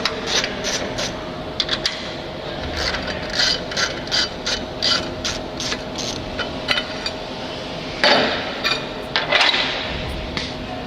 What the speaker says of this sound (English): Then we proceed by removing the yellow cover.